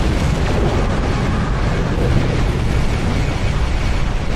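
Torpedo explosions in a Star Trek video game, a dense continuous roar of booming blasts and rumbling bursts, loud and close throughout with no letup.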